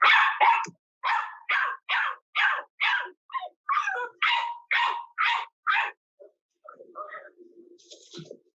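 An adult dog barks at a puppy to correct it: about a dozen sharp barks in an even, rapid series, followed by softer whimpering yips and quieter sounds at the end.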